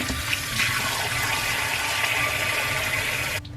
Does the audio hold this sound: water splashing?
yes